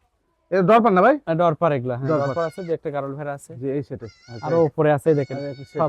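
Goats bleat repeatedly inside a shed where crossbred and improved-breed goats are kept, one doe with three kids; the calls are loud, close and wavering, coming in quick overlapping bursts throughout.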